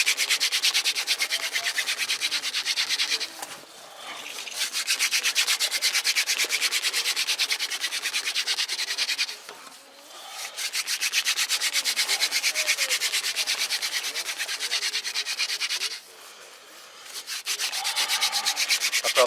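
A wooden hand-drill spindle is spun between the palms for friction fire-starting, giving a continuous, close, rhythmic rubbing and grinding against the wood, broken by two or three brief pauses.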